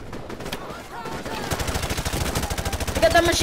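Rapid, sustained automatic gunfire in Call of Duty: Modern Warfare, loud and rhythmic, building into continuous bursts with brief shouting underneath.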